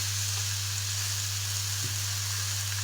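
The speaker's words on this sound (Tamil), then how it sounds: "இப்போ நல்லா கிளறி விட்டுக்கலாங்க." Chicken pieces coated in masala for a Chettinad chicken kulambu sizzle softly in a pan as they are stirred, a low steady hiss over a constant electrical hum.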